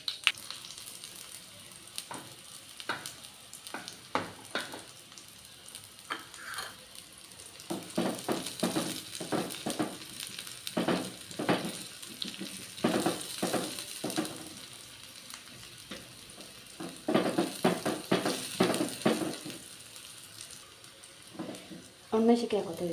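Dry red chillies sizzle in hot oil for a tempering, a steady crackling fry with bursts of sharper spitting and occasional stirring, alongside quiet talk.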